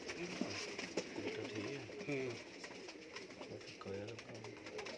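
Teddy cross pigeons coo repeatedly in low, throaty rolling calls, close by, while someone talks over them.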